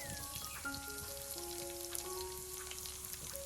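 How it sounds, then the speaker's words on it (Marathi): Oil spattering as raw mango and dried shrimp fry on an outdoor wood-fired stove: a continuous faint crackling hiss with scattered pops, steady throughout. "बापरे, तेल उडवेला सावकाश."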